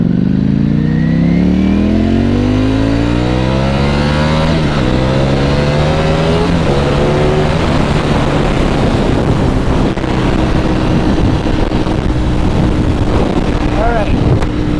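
A Ducati V4 Panigale motorcycle engine revs hard and accelerates through rising gear changes on the road, loud and close, with heavy wind buffeting the microphone.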